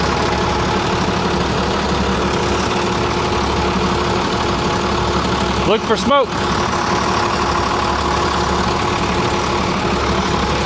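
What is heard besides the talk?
engine running smoothly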